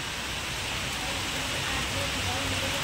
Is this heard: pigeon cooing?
no